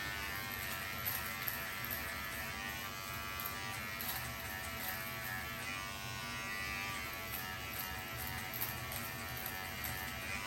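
A Remington T-Series MB7050 hair and beard trimmer buzzes steadily while cutting beard hair, a close, constant electric drone with slight rises and dips as it passes over the stubble.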